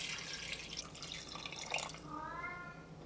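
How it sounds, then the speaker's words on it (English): Water pouring from a tap into a pressure-cooker pot for Taiwanese beef noodle soup, a quiet close trickle and splash with a rising tone as the pot fills. "Then adding about 6 cups of water."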